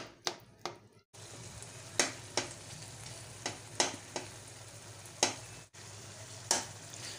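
Steady sizzle of eggplant frying in a pan, punctuated by sharp spatula scrapes and taps every second or so; close and moderately quiet, no speech.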